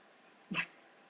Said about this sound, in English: this is my dog right now